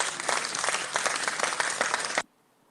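Audience applause for the Lunacy guests at the start of a live Twitter Spaces talk show, a dense, steady burst of clapping that cuts off abruptly after about two seconds into near silence.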